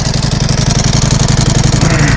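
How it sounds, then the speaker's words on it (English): Ducati Panigale V4 Lamborghini idling, with the rapid rhythmic rattle of its dry clutch over a loud, steady engine throb, recorded close up. "The sound on the dry clutch on Ducati is like nothing else."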